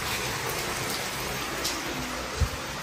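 Steady rain falls close by as an even, dense hiss with no talking, broken near the end by one soft thud.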